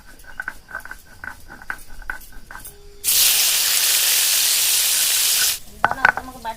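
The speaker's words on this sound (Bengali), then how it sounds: "আবার কড়াইয়ে একটু সাদা তেল দিয়ে দিচ্ছি পটলগুলো ভাজার জন্য।" Pointed gourd drops into white oil in a wok and sets off a loud, close sizzling hiss that holds for a few seconds before dying down amid light clatter.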